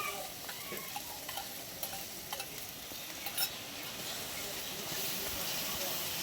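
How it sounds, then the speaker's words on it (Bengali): Spices with turmeric and beaten sour curd fry in oil for doi katla, a steady broadband sizzle with occasional stirring scrapes running throughout, close and moderately loud. "আর একটু আমি ভালো করে কষে নেব।"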